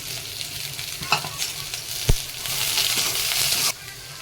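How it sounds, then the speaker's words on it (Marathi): Onion fries lightly in a little oil for a Maharashtrian dry mutton dish, sizzling softly up close with a few knocks and a clatter of stirring before the sound cuts off. "हलकासा कांदा थोडा तेलामध्ये परतून घेते"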